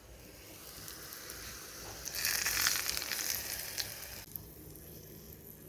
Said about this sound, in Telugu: ఒక హాఫ్ దాంట్లో తాలింపు వేస్తాను